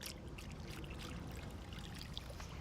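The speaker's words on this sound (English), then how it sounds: "We're gonna add warm simple syrup with just equal parts of sugar water." Warm simple syrup of sugar and water pours into gelatin in a bowl, a faint, steady trickle and splash running continuously without a break.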